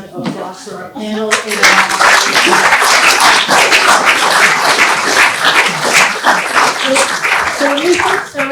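A conference audience at a healthcare and artificial intelligence event applauds a panel, loud sustained clapping that swells after a brief spoken lead-in, then fades as a voice resumes speaking.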